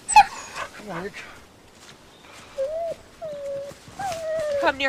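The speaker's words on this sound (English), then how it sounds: "Okay, that's my dog." A dog whimpers with high yips and whines, then gives short barks, close by, mixed with people's voices talking.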